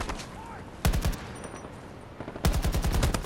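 Two sharp bursts of rapid automatic gunfire ring out in the Battlefield 2042 open beta, with quieter game ambience in between.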